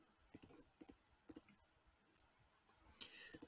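A computer mouse clicks while someone draws pixel shading in Photoshop, giving a handful of sharp, quiet clicks spaced irregularly over a few seconds with a faint background hiss.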